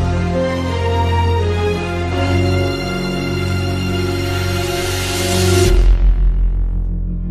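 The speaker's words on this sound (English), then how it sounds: "The emote plays music that will go on loop." Dense, looping electronic emote music from Fortnite with heavy bass plays steadily, then its high end drops away abruptly near the end, leaving a deep rumbling pulse.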